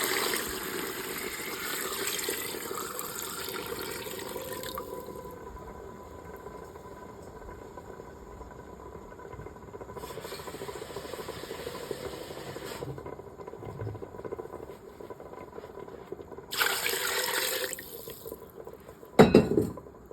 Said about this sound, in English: add the vegetable broth and water to cover if necessary